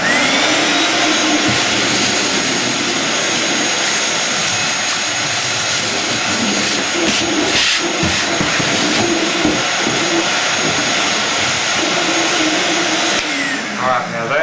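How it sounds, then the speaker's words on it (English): A shop vacuum runs loud and steady, sucking up loose white fiberglass pieces while installing an EZ Troll Tray, with a constant rushing roar that cuts off near the end. "I like to vacuum all this up"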